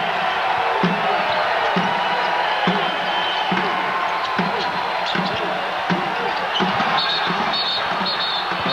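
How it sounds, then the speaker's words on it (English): A crowd fills a college basketball arena with a dense, continuous roar of cheering, distant-sounding and loud throughout, with regular ball bounces and an announcer's voice carrying over it. "And the crowd here at the Special Events Arena very much into it."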